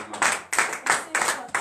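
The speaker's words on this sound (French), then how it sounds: "Donnez l'acclamation à Jésus." A church congregation at a morning prayer service claps in a steady rhythm, five loud sharp bursts of hand claps in quick succession, with voices faintly mixed in.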